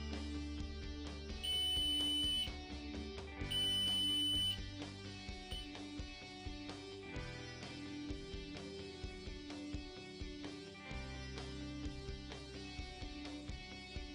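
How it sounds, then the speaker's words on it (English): Two short, steady electronic beeps, each lasting about a second, sound close by from a D-Link water leak sensor over continuous background music. "The master water sensor will beep and you should get a push notification."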